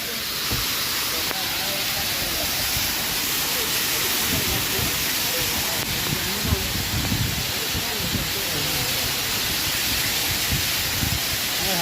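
Water rushes through a dam in a continuous, loud roaring wash of broadband noise that stays steady and close for the whole stretch.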